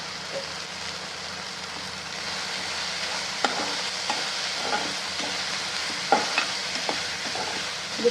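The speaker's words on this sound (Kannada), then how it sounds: "ಹಸಿ ವಾಸನೆ ಹೋಗೋವರೆಗೂ ಫ್ರೈ ಮಾಡ್ಕೊತಾ ಇದ್ದೀನಿ." Spices for a sprouted-bean tempering fry in a pan with a soft, steady sizzle, broken by sharp spoon clicks and scrapes as they are stirred, close and fairly quiet.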